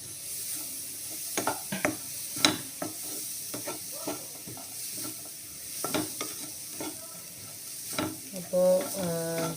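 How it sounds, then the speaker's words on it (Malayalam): Onion, grated coconut and curry leaves are dry-roasted in a pan for a prawn and drumstick theeyal. A spatula scrapes and stirs in irregular strokes over a soft, continuous sizzle, with a few sharper clatters toward the end. "ഉള്ളിയും തേങ്ങയും കറിവേപ്പിലയും എല്ലാം കൂടെ നന്നായി ഒന്ന് വറുത്തെടുക്കാം."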